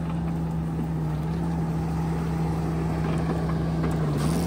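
A Coneteks 2.13M forestry mulcher with a forestry rotor head runs on a skid steer, clearing brush and stumps with a constant loud droning hum and engine rumble that never lets up.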